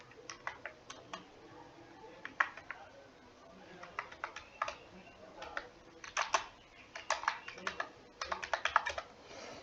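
Fingers type on a computer keyboard in quick irregular bursts of sharp clicks, some keys struck harder than others, close and fairly quiet with short pauses between runs.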